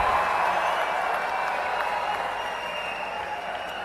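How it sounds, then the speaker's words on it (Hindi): Stadium audience at a sports award and inauguration ceremony claps together in a steady, broad wash of sound, fairly distant and even, easing slightly toward the end. "खेल जगत की तरफ से जोरदार तालियों की मैं गुजारिश करती हूं"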